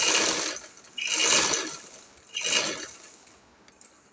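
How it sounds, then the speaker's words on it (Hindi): A domestic sewing machine runs three short bursts of rapid stitching, double-stitching the seam of an angrakha frock up close, each whirring run separated by brief pauses and no speech. "इसको ना हम यहाँ से डबल सिलाई लगाते हुए ना बंद करते हैं"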